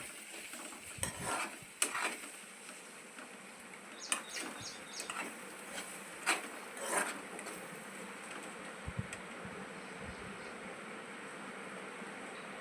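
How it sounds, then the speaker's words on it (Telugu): Eggs stirred into fried onions in a pan give a low, steady frying hiss, broken by scattered sharp utensil clicks and scrapes against the pan. No one speaks. "ఎగ్స్ని కూడా ఒకసారి అంతా కలిపి మిక్స్ చేసుకుందాం"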